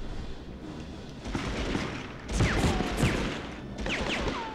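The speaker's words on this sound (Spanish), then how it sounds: "Oh, me estás disparando." Bursts of gunfire from the Medal of Honor shooter game crackle in rapid volleys, with sharp reports and whizzing sounds in several clusters, loud and close with no talking.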